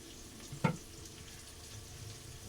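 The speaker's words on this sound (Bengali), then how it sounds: "এখানে আছে এই ডিম ভেজে নিচ্ছি" An egg fries in a pan with a low steady sizzle, close and quiet, punctuated by one brief clunk of utensil against the pan, no talking.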